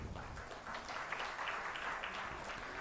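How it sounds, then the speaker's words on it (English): Audience applause at an ISKCON Bangalore book marathon closing ceremony, a continuous, muffled wash of clapping at moderate level throughout, slightly distant and without distinct individual claps. "A big round of applause for all these devotees who have been the pillars of this book marathon."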